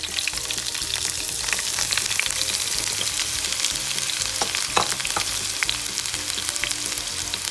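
Curry leaves, shallots, urad dal and dried red chillies fry in hot oil for Kerala-style sambar, a steady close crackling sizzle with occasional sharper pops and stirring scrapes, no voices.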